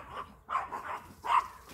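A neighbor's dog barks three or four times in a short, irregular series from a moderate distance outdoors.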